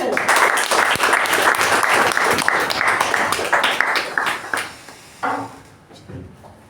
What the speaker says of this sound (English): With a thunderous round of applause, please welcome the MC of the day, Toastmaster Darshan.